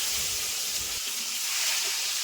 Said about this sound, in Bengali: এবার মাছ ভাজা তেলেও আলুগুলোকে লাল লাল করে ভেজে নেব।